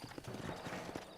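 Horse hooves clip-clop at a brisk, steady trot in Red Dead Redemption, a close, continuous run of dull hoofbeats on dirt with no voices over them.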